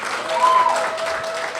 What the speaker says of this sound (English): A round of applause for Kelly again, guys.